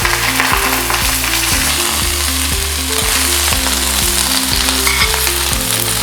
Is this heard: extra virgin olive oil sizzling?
yes